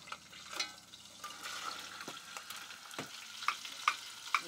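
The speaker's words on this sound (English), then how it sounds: "now we're going to put the carrots and onions in and get those sauteed" Carrots and onions sautéing in a pan in an RV kitchen, a gentle crackling sizzle with occasional sharper spatters and stirring taps, faint and close with no voices.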